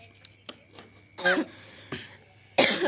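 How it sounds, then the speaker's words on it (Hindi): A few faint clicks, then two harsh coughs close by, separated by a short pause, with a softer sound in between. "खांसी उमड़ गए संगवारी हो"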